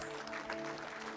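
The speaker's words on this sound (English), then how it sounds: "Can we have a big round of applause for" Audience applause at an awards ceremony during a business school conference, a brief steady patter of clapping with a sustained tonal hum underneath.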